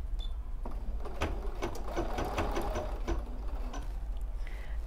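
Embroidery sewing machine couching at medium speed, a steady close mechanical whir with rhythmic needle ticks running throughout.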